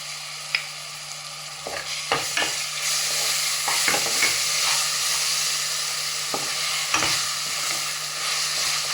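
Onions, ginger and garlic sautéing in a pan for mutton biryani, a dense, steady hiss of frying with scattered spatula knocks and scrapes, close and fairly loud, with no voices.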